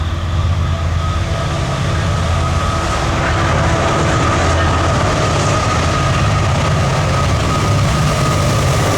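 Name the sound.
Canadian Pacific AC locomotive train passing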